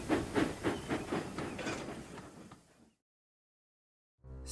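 A steam train puffs along with rhythmic chuffing bursts of hiss that fade out over a few seconds, followed by silence and then the start of a tonal sound at the end.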